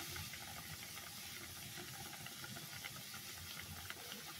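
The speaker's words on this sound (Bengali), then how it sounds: "তো দিয়ে দেবো একটু সর্ষের তেল।" Mustard oil hits a hot pan with a steady, faint sizzling hiss that holds evenly throughout.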